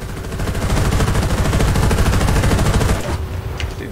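20mm cannon in War Thunder firing at a tank's tracks from a Leopard 2K, a loud rapid burst of repeated shots lasting about three seconds, then stopping abruptly.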